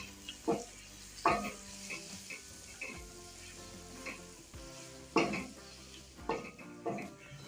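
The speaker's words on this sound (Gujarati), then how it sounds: "હવે બધા મસાલાને સરસ રીતે આપણે મિક્સ કરી લઈશું" Spice mix for an ivy gourd and potato curry is stirred in a hot pan, with intermittent scraping strokes and bursts of soft sizzling recurring roughly every second, close and moderately quiet.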